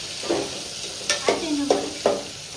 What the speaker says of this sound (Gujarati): તો પૌવા વઘારી રહ્યા છે